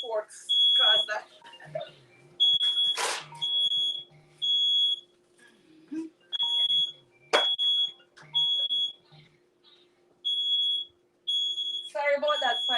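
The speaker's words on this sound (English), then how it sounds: "Sorry about that fire alarm in here. A little smoke and it goes off." A smoke alarm in a kitchen goes off repeatedly from cooking smoke while oven jerk pork is being made, loud high chirps arriving in a broken, pulsing pattern, with voices talking between the bursts.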